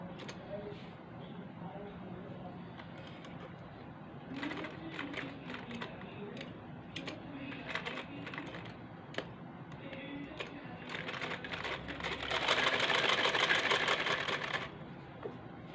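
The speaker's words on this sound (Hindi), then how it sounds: "तो अभी मैं सिलाई लगाऊंगी" A sewing machine stitching a simple kurti, starting and stopping in short runs of quick rhythmic clatter, with a longer, louder run near the end, while someone speaks softly between the bursts.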